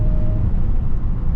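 Hellcat Charger driving in cold morning traffic, a steady, loud low engine rumble with a faint thin whine riding above it through a short stretch.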